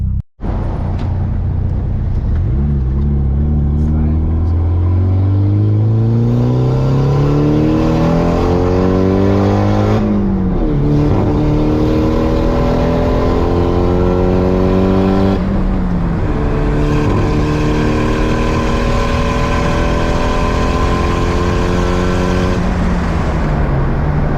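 Tuned car engine revving hard under boost, loud and close, with repeated climbing pulls that drop back and climb again over about twenty seconds, no talking.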